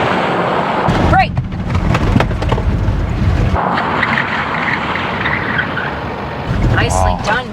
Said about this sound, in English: slam on those brakes as hard as you can for me, all the way to the ground